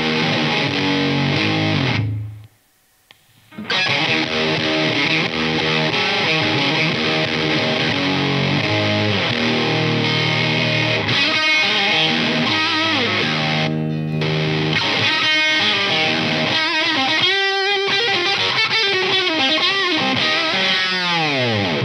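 Electric guitar played through a Pro Co Lil' Rat mini distortion pedal, loud and continuous chords and riffs with a brief drop-out early on, then sustained distorted, percussive playing alone without talk.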